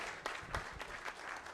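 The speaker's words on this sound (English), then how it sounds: "One more round of applause." An audience applauds at a national dialogue event in the Gambia, faint and somewhat distant clapping with a few louder individual claps standing out over a soft continuous patter.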